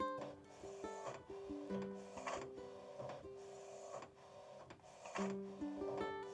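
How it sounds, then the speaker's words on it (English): A Canon imagePROGRAF Pro-G2 (Pro-310) photo printer prints at home with quiet, rhythmic mechanical whirs and motor tones that repeat in short cycles as the print head shuttles back and forth. "I went to buy this my first Pro printer, which is Canon Image Prograph Pro G2"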